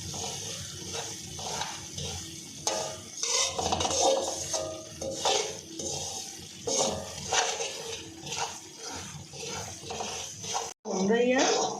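Semolina is stirred and roasted in a kadhai for halwa over medium-low heat, with a steady scraping and soft sizzle and repeated spoon strokes against the pan throughout.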